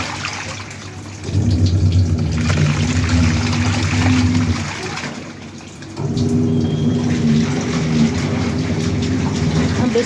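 A washing machine runs through a wash cycle on a balcony, giving a steady churning hum with sloshing water that pauses briefly and then resumes, close and fairly loud with no talk.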